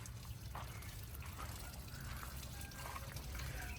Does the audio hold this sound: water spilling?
yes